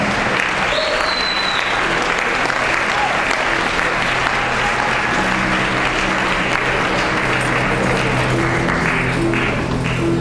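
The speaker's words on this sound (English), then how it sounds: "Please give them a round of applause." Loud, dense audience applause at a Mr. Bowmen 2013 stage event, a continuous wash of many hands clapping with crowd noise and a few faint cheers, sustained throughout.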